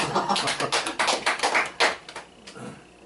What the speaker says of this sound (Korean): 박수 큰 소리로 박수 치세요